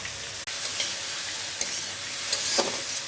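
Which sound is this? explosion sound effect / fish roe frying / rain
fish roe frying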